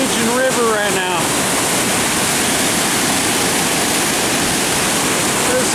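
Floodwater roars through a normally small creek swollen into a raging river during a Pacific Northwest storm, a loud, continuous rushing wash filling the scene, with a brief voice audible at the start.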